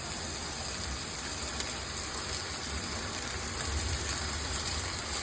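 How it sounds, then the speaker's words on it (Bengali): Marinated chaap sizzles steadily in hot oil on a tawa, a soft continuous crackle and hiss like light rain, quiet and unbroken. "চাপটা ভেজে নেব, চাপ দিয়ে পরোটা দিয়ে খাবো।"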